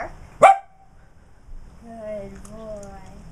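A dog barks once, sharp and close, then a person speaks briefly during a training session of barking on command.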